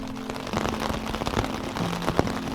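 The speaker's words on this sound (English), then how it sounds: "Alright, we've got rain." Rain patters steadily on a tent pitched in the Pecos Wilderness, a dense, even hiss with scattered louder drops and no talking.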